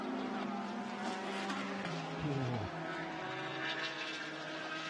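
A Blancpain GT Series Asia race car is heard through turn 14 during qualifying at Fuji, its engine tone dropping steadily as it brakes and downshifts before pulling away again. The car is loud and steady, with no talking.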